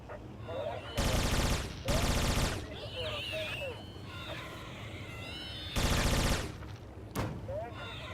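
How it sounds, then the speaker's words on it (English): Loud bursts of automatic gunfire from characters shooting at aliens in the online game Anarchy Online, several long volleys separated by quieter stretches of ambient game sound and chirpy effects. "these guys are still here shooting at the aliens"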